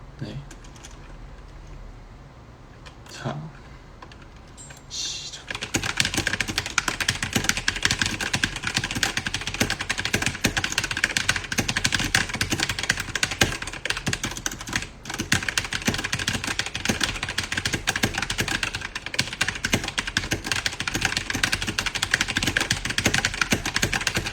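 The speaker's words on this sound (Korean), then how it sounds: "지금 주제는 사실 제 키보드 ASMR이에요" Computer keyboard typing for ASMR: after a quiet few seconds, dense rapid key clicks start and run steadily and close up for the remaining twenty seconds.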